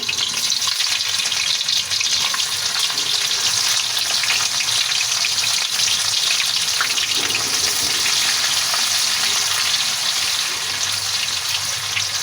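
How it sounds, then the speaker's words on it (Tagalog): Aromatics sautéing in a frying pan reused from frying tofu, a loud, steady sizzle and crackle of hot oil lasting throughout with no talking. "yan na lang din ang igisahan natin ng mga ricado natin"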